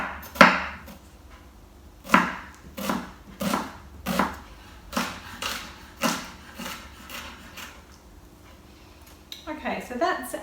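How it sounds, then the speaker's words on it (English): A knife dicing onion on a cutting board, a dozen or so sharp chops in a slow irregular rhythm, close and crisp, ending with quicker scraping taps. "so that's our onion, nice and finely diced"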